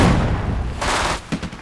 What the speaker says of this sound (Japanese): 目標に発砲せよ。 シュート。